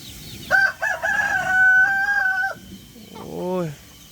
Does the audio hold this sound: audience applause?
no